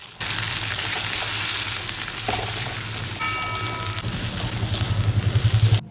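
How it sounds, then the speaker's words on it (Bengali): Garlic fries in hot oil until deep red. A loud, continuous sizzle starts abruptly, then a few stirring knocks and clatters come through near the end, with no speech. "রসুনগুলোকে একদম লাল লাল করে ভাজা ভাজা করে নিয়ে"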